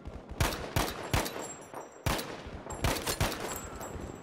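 Gunfire in the video game Battlefield V: a string of sharp, loud shots in uneven bursts, some in rapid clusters, with no talk over them.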